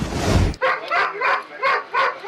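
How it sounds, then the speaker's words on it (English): A police dog barks repeatedly in a steady, rhythmic series of loud, close barks, following a brief burst of noise at the start; no talk is heard. "Invercargill Sergeant Wally Kopai and his dog Buddy are on the scent of a very strange case."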